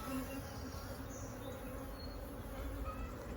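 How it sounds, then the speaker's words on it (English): Dense, continuous buzzing of many agitated honey bees close by in an opened single brood chamber hive, a steady low hum with occasional higher individual buzzes passing near. "we got a lot of bees in here"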